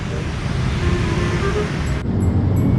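An Eka intercity bus rolls past on a busy road, its engine rumble and road noise loud and close, then an abrupt cut to a steady traffic drone with faint high tones.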